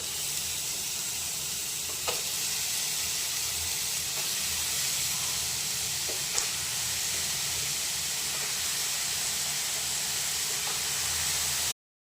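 Sliced ridge gourd in a pan of sizzling onions, green chillies and tomatoes, giving a loud continuous hiss and sizzle with a few faint clicks, and no talking.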